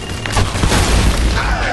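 A tank explodes in the Army of Two: The Devil's Cartel shooter game, a loud rumbling boom with crackling debris that rolls on for a couple of seconds, close and dense.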